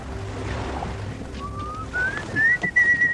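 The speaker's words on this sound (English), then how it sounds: "Never whistle in a ship, son." A person whistles aboard a ship, faint at first and then growing to a clear rising tune over the low rumble of the vessel and sea.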